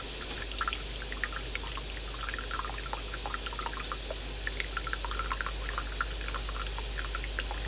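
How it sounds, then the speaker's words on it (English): Water trickles down the channel of a Barisieur coffee maker as it starts brewing, with a continuous steady stream and light scattered bubbling drips under a constant background hum, and no one speaking. "the water is moving down the channel and it's now starting the brewing"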